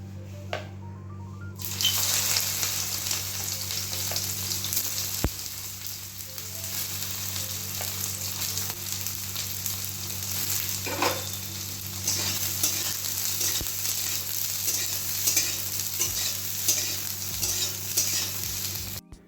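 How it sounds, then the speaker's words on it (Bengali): Soybean chunks frying in hot oil in a home kitchen, with a loud continuous sizzle and occasional stirring knocks at close range. No speech is heard. "তেল গরম হয়ে গেছে আমি এখন সোয়াবিনগুলো ভেজে নেবো"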